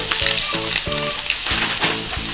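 Egg frying with onion and bacon in bacon fat inside a covered pan, a steady loud sizzle with a repeating low rhythmic tone running under it throughout.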